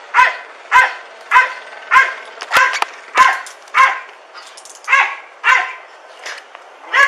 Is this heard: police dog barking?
yes